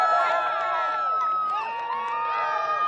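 Blue Origin employees gathered to watch a New Glenn rocket launch cheer together, a sustained blend of shouts and whoops from a crowd close by.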